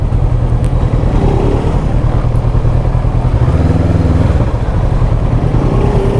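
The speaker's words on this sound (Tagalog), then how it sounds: "Grabe ang traffic dito." Heavy road traffic of motorcycles and cars on a road under construction along the Calamba–Tagaytay bypass in the Philippines. A loud, continuous rumble of engines fills the scene, with no talking.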